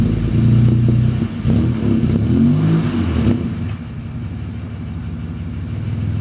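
A 1947 Chevrolet with dual exhaust runs loud and close, its engine rumbling steadily and revving briefly as the car backs out, then settling to a lower idle.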